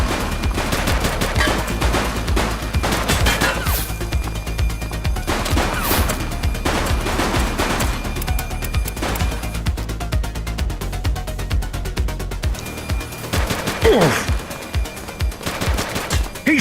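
Bursts of automatic gunfire and single shots crack loudly and repeatedly through a gunfight in The Precinct, a police action video game, with dense volleys rattling near and continuous over a busy background.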